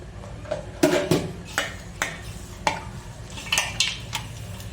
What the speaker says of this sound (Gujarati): આપણે બધું આમાં મિક્સ કરી લઈએ. હવે હાથથી જ મિક્સ કરવાનું છે આપણે.